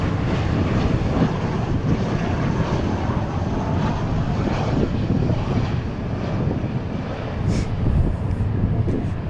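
Heavy jet airliner taking off at DFW International Airport, a continuous loud broadband engine roar held steady throughout with no talk over it.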